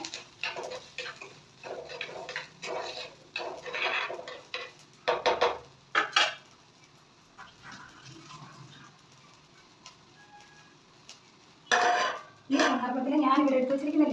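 Onions and green chillies being sautéed in a pan with salt, with scattered clinks and scrapes of a utensil against the pan, fairly close, interrupted by quiet gaps and ending in a louder stretch of sizzling and stirring.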